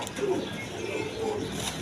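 A pair of king pigeons brooding their eggs coo softly in low, throaty bursts, a moderately quiet, close sound against faint background noise.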